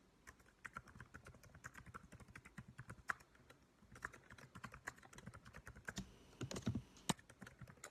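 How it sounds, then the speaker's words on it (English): Typing on a computer keyboard, with quiet, close, irregular clicks and key taps in quick runs, a few louder strokes near the end. "Love to hear me type, right?"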